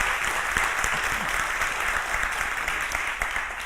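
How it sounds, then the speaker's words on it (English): A community gathering applauds volunteers for a successful event, with a steady, full round of clapping from many people that stays loud and even from start to finish, with no talk over it. "let's give them a round of applause for all they did to make that such a good event"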